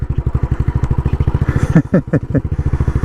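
Royal Enfield Bullet Trials 500 Replica motorcycle climbing a hill across a rugged field, its single-cylinder engine thudding in a steady, loud, close beat that rises briefly in a few sharp revs.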